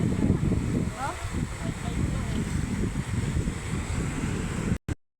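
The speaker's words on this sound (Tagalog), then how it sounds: "Oh, lakas ng alon, oh." Strong sea waves at high tide near a rocky deep pool, a continuous low roar of surf mixed with wind buffeting the microphone, with a voice speaking over it before an abrupt cut.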